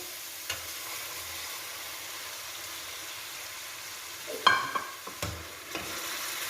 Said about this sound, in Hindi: अब हम इसमें कलेजी शामिल करेंगे